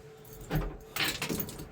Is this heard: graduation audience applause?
no